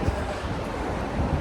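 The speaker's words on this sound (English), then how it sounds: "it's windy today" Wind buffets the microphone outdoors on a gusty day, a steady loud rumbling roar with low thumping gusts throughout and no voice.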